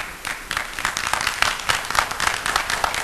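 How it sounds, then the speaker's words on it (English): Audience at an Atlanta City Hall meeting breaking into a few seconds of steady applause, a crowd of hands clapping together in a room without voices over it. "Please do not applaud. No applause."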